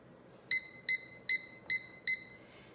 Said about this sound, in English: And I'm going to go ahead and set my timer.